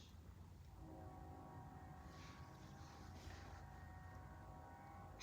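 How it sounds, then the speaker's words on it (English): A train passes in the distance as a faint, steady, low rumble with a soft tonal hum, heard alone and quiet throughout. "I don't know if you guys can hear that, but that's a train"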